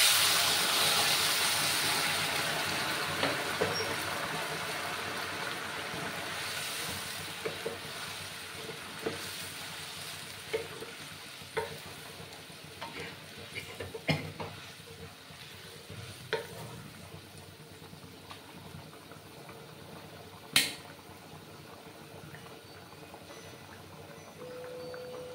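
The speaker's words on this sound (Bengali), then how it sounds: "এবার আমার জল দেওয়ার পালা, আমি জলটা দিয়ে দেবো। আমি গরম জল ইউজ করবো।" Hot water poured into a pan of Rui fish curry with taro sets off a quiet, continuous sizzle, broken by scattered clinks and one sharper knock near the end.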